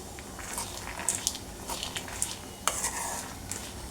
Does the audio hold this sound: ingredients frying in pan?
yes